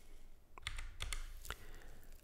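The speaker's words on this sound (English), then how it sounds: "let's start by typing in the first 2 backslashes" Backslashes are typed on a computer keyboard while a printer port is set up, giving a few close, sharp key clicks spaced irregularly over quiet room tone.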